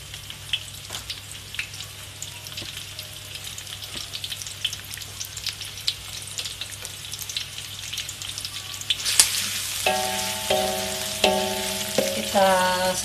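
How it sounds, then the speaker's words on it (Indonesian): Sliced garlic and onion sauté in a pan for beef tongseng, giving a steady close sizzle and crackle throughout, with a few stirring scrapes and a short run of tonal beeps near the end. "bawang putih potong, ditumis supaya lebih sedap"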